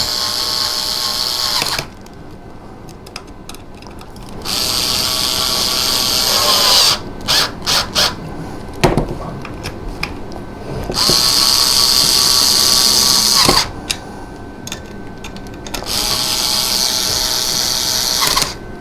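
A power tool drives screws down on a Bell and Howell worm gear assembly, running in several loud bursts of whirring separated by brief pauses, with no talk over it.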